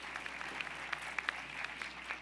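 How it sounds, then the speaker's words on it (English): Steady applause from a crowd at the 2016 State of the City address in New York City, continuous clapping with a few sharper claps standing out, moderately distant and even throughout. "Let's give a big round of applause"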